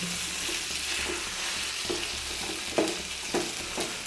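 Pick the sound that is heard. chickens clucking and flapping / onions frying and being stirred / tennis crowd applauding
onions frying and being stirred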